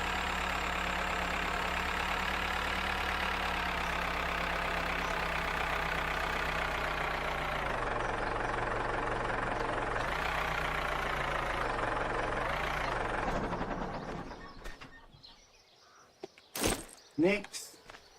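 Tractor engine in a forestry farming video game, running steadily after refuelling: a continuous loud mechanical drone with a couple of brief pitch dips, then cutting off toward the end, followed by a few short thumps.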